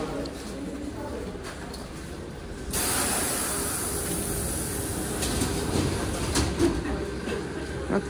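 Moscow commuter electric train at a station platform, a faint steady rumble with a sudden louder surge of rolling noise partway through and scattered clicks, heard from the platform at a distance.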